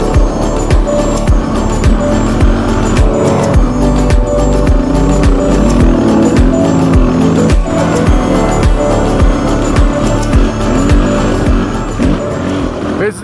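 Four-wheel drive vehicles climb and dig up sandy hills, their engines loud and close, revving hard in a continuous, surging drone with pulsing bursts of power.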